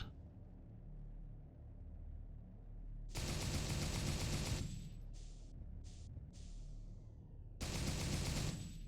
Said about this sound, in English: fire weapons destroy the crate